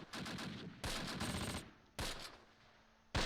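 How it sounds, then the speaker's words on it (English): Gunfire in the World War II strategy game Close Combat Last Stand Arnhem, set at Grafwegen in September 1944: loud bursts of automatic fire broken by short pauses, ending in one sharp final shot. "they are returning fire now"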